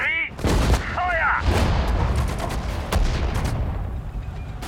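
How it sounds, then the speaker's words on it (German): Artillery barrage in the WWII strategy game Sudden Strike 4: a sustained stretch of dense booming and gunfire impacts across the whole span, with a short whistling tone near the start and a game voice barking orders over the battle. "Artillerie! Feuer!"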